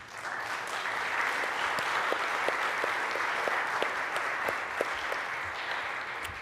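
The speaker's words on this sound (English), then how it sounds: "Let's give them a round of applause" An audience at the 2022 Great Plains Conference breaks into a full round of applause, dense steady clapping that holds at an even level throughout with a few sharper claps standing out.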